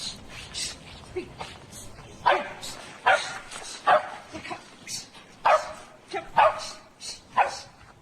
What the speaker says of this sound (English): used a dog trainer to keep the dog on the side of the person walking it and barking with perfect rhythm